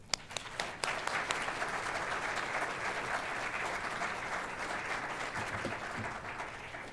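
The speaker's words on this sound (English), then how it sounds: "Can you please join me, audience, in clapping and celebrating all of our students?" An audience at a university graduation ceremony bursts into applause for the graduating students, a few early claps quickly swelling into sustained, fairly distant clapping that holds steady.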